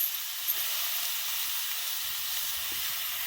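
Chillies sauté in ghee for a rustic village dal-chilli dish, a soft continuous hiss of frying held at an even level, with faint low thuds underneath.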